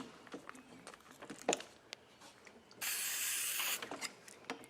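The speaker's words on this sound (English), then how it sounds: "Silicone? Yeah, silicone spray." A one-second hissing burst from a silicone spray can, close by, amid small clicks and handling noises, in a cylinder head porting workshop.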